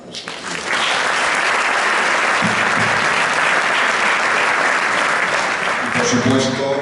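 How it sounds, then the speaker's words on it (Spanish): A crowd breaks into sustained applause at a book presentation, the clapping building quickly and holding loud and dense before a voice begins speaking over the tail end. "Un aplauso para nuestro equipo."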